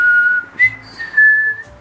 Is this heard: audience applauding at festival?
no